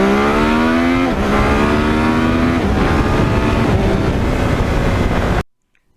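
A Yamaha MT-09 naked motorcycle with a quick shifter accelerates hard, its engine note climbing through two quick upshifts, loud and close, before cutting off abruptly.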